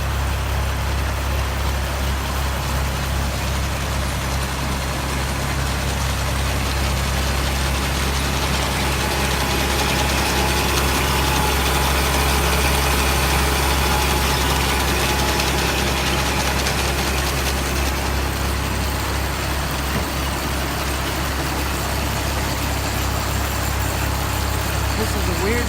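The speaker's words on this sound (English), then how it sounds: "the truck finally showed up" A semi truck idles steadily with a low, constant rumble for nearly half a minute, heard up close outdoors on a farm with faint background noise.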